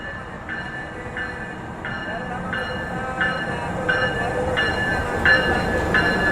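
An Indonesian KRL electric commuter train, built by INKA, rolls past steadily on track 2 at Probolinggo, wheels clacking in a regular rhythm over the rails, with a continuous mechanical rumble and faint electrical whine.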